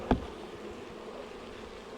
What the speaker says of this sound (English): There we go. There's the bees. They're free.